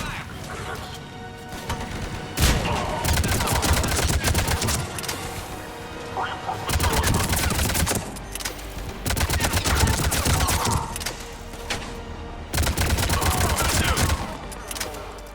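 Heavy gunfire in the sci-fi shooter Mass Effect 3 during a pod evacuation under enemy attack: dense, overlapping automatic bursts and impacts that swell and ease in waves, loud and continuous throughout.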